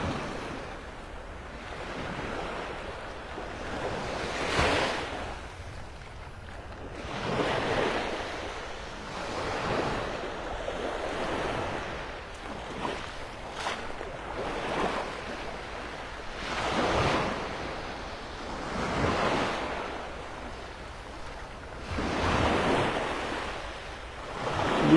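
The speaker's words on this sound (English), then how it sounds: "The surf action's picked up a little bit here." Ocean surf rolls in at Delnor-Wiggins beach in North Naples, with waves breaking in a slow, regular rhythm every few seconds, each a rushing swell of foam over a constant background wash and light wind.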